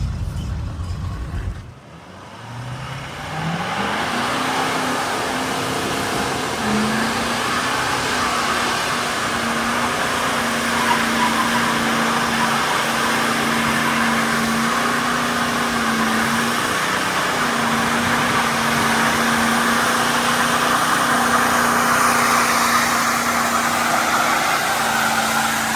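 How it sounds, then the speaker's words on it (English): An L5P Duramax pickup doing a burnout: after a brief lull the diesel engine roars up and holds a loud, sustained high-revving drone with slight pitch dips, steady and close for over twenty seconds. "every vehicle we own has to do the burnout test"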